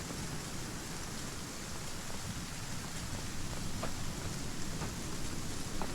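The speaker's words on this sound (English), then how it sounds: "So much rain." Rain falls steadily in the Viking village-building video game ASKA, a continuous broadband hiss with faint scattered drop ticks, even and moderately loud, with no voices.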